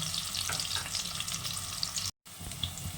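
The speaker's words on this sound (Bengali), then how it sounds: "আলুটা একটু ভাজা ভাজা হবে" New potatoes frying in a pan give a steady, dense sizzling, loud and close, with a brief dropout near the end before the crackle resumes.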